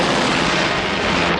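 Dense, continuous gunfire and blasts from a 1986 animated movie, a loud unbroken wall of noise with no gaps.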